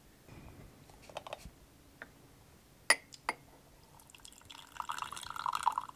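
Lychee dragon pearl tea poured into a glass vessel, a trickling liquid stream building toward the end after a few sharp clinks and small taps, quiet and close with no talking.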